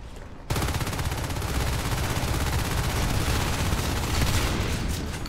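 A marine in Natural Selection 2 firing an automatic weapon, a loud, steady rapid burst that starts abruptly after a short pause and rattles on without letting up.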